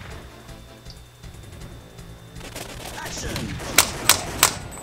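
Three sharp arcade gunshots from the Time Crisis shooting game, fired with a light gun, crack out in quick succession near the end, following a short spoken line over background game noise.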